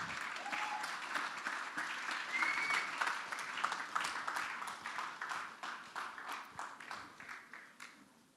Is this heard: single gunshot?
no